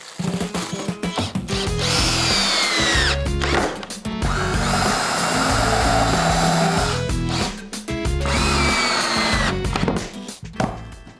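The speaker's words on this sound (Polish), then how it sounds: "Dobrze jest nawiercić ze względu na to, że to drewno lubi pękać." Power drill pre-drilling pilot holes into wood for screws while building a DIY cat house; three loud, sustained whining bursts with rising motor pitch, separated by short pauses and clicks, with no talking.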